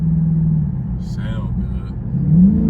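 A 2023 Dodge Charger Scat Pack with the 392 V8 rumbles low and close from inside the cabin, with engine pitch climbing at the end as someone talks over it.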